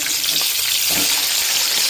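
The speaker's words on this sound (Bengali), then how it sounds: "মাছ ভাজাটা উল্টে দিই।" Fish fries in hot oil in a pan with a constant loud sizzle, and a soft clatter in the middle marks the fish being turned over.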